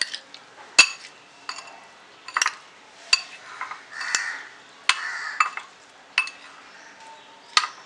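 A spoon mixes lemon pickle with black salt and taps and clinks against a steel bowl in scattered light strokes, with soft scraping between the knocks, close and clear.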